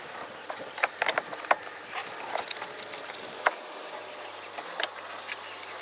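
Bolting the brake master cylinder to the booster on a 1989 Camaro, with scattered light metallic taps and clicks of tools over a low background hum.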